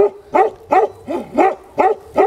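A Bhote dog, a Himalayan sheep-guarding breed, barks six times in an even rhythm, each bark close, loud and clear.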